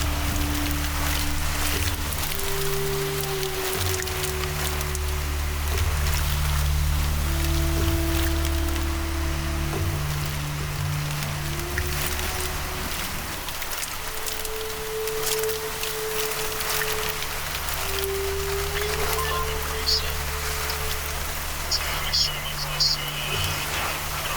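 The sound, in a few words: rain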